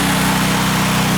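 A Heron 3.5 kW single-phase petrol inverter generator running steadily, a loud, close, continuous small-engine drone with an even buzzing hum and no talk over it.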